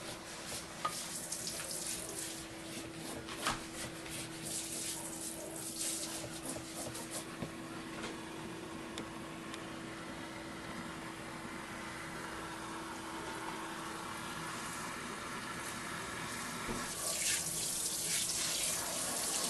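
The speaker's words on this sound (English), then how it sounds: "I'm going to rinse my sink out real quick though." Tap water runs steadily into a kitchen sink as it is rinsed out, a continuous splashing hiss with a faint hum beneath, growing slightly louder and brighter toward the end.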